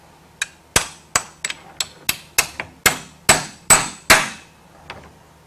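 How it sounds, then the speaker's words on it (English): A hammer strikes a Ridgid 766 cutter to seat it on a Ridgid 1224 power threading machine: about a dozen sharp, close metallic taps in an uneven rhythm, each ringing briefly, with no talking. "Grab my hammer."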